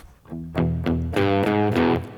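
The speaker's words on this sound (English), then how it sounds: "If you put the volume up, you have more distortion." Distorted electric guitar plays a short blues rhythm of chopped chords, loud and close, each stab ringing briefly before the next, with the grit thickening as the volume knob is turned up.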